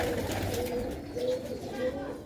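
Sialkoti Bateray pigeons coo softly and repeatedly in low, rounded calls nearby, while someone talks in the background.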